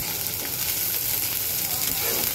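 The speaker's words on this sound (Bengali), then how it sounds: "তো চলো আগে পেঁয়াজটাকে সুন্দর করে ভেজে নেই" Chopped onion with green chillies fries in a pan, a continuous loud close sizzle with faint stirring throughout and no speech.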